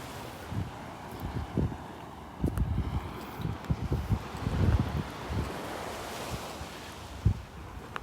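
Wind blowing across a Gulf beach at Delnor-Wiggins on a winter morning, a steady roar buffeting the microphone with soft surf washing beneath it and gusts rising and falling throughout, no voices.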